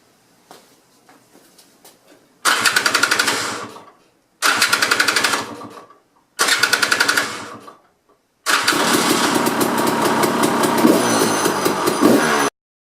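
Starter on a KTM motorcycle cranking in three separate loud, buzzing bursts, each lasting about a second and a half, then the engine catches and runs steadily for several seconds, close and loud with no talking.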